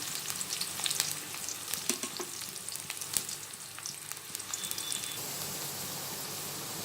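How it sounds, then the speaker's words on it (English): Chopped onion frying in an Indian pan for an okra bhujia, a steady close crackling sizzle with scattered pops throughout, no voices. "You just cook this onion for some time."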